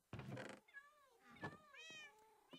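Cats meow in the Minecraft video game, several short, faint mews one after another in quick succession with a brief rustling noise at the start.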